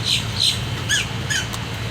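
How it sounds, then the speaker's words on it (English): Several short, high chirping bird calls repeat in quick succession over a low background hum, fairly close and clear. "Y'all hear the birds?"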